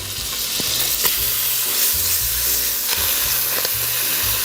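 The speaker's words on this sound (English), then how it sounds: "Render the bacon down for a couple minutes" Diced bacon sizzles and spatters steadily in butter in a soup pot, a close, continuous frying hiss with occasional stirring clinks and low scraping throughout.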